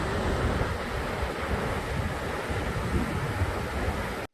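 Sambuyeon Falls, a 30 m waterfall dropping in three tiers past craggy rocks into a cauldron-shaped pool, roars as a steady, loud, broadband rush that holds unbroken before cutting off abruptly.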